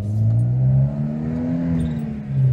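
A 1975 Citroën CX2200 Pallas accelerating, its engine droning loudly from inside the car with a rising pitch, a short dip as the gear changes, then climbing again.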